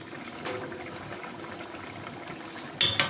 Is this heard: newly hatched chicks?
no